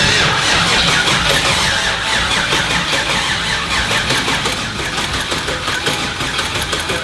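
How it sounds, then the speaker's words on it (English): A starter motor cranks a turbocharged Nova engine without it firing, a loud, close, steady churning whir that runs the whole time with no voices over it. "I do want to just run the starter a little bit to try to start moving some oil around"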